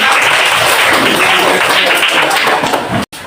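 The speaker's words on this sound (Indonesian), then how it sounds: "Tepuk tangan dulu." A class of students applauding in a room, dense loud clapping sustained throughout before a sudden brief cut near the end.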